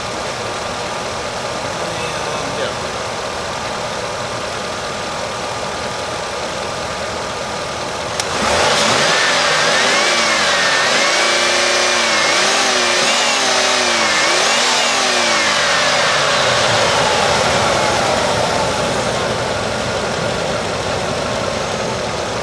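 A high-mileage Chevrolet Suburban engine idles steadily close by, then is revved, its pitch rising and falling through several loud swells before settling back toward idle.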